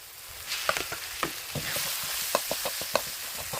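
Minced pork stir-fried with chili and garlic for Thai pad kra pao: a soft, steady sizzle under sharp scrapes and clacks of a spatula against the pan, fairly close and unaccompanied by talk.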